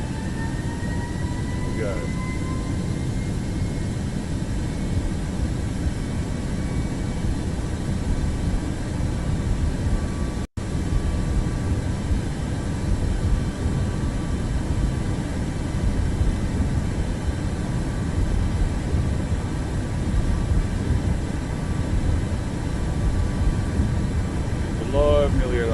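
Boeing 737 MAX 8 engines at takeoff thrust in MSFS 2024 give a steady, loud, broadband roar throughout, with a brief dropout midway and a voice speaking over it.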